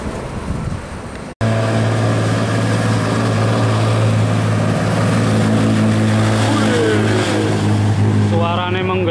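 An empty Tronton truck trailer's engine roars loudly and steadily after a brief cut, a deep sustained rumble with rising whine near the end, and a voice speaks over it.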